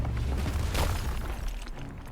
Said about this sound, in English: I should be pretty much good to go on getting the next rock explosion